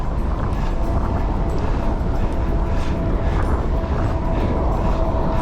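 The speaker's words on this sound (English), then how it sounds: "the wind is definitely getting worse now" Strong wind roars across the microphone during a bike ride on a road in Arizona, a loud, constant low rumble and buffet that fills the whole stretch with no voices.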